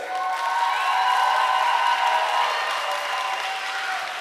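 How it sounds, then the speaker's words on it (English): Audience applause for Kamui Cosplay at a convention panel, a steady wash of clapping that holds loud and even for a few seconds before easing slightly. "Applaudismenti za Kamui!"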